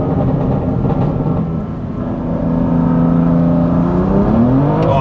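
BMW M2 Competition with a custom tune launching hard with traction control off, engine revving through rising sweeps as the tires spin, loud and close with no talk.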